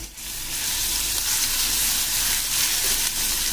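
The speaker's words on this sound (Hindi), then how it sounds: "तो मैं इनको थोड़ी देर तेल में भूनूंगी।" Finely grated garlic sizzles and fries steadily in hot oil in a pan, a continuous close crackling hiss with no talking.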